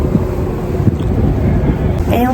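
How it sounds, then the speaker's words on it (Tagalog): Strong wind buffets the microphone outdoors in Canada, making a steady, loud, roaring rumble with gusty bumps that lasts the whole moment. "Ang lakas ng hangin"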